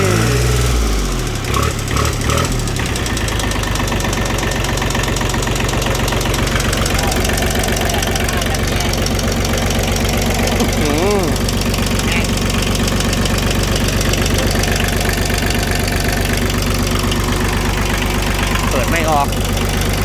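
An old L22 tractor engine runs steadily at idle just after starting, close and loud, with a constant low knocking chug; a few sputters sound at the start.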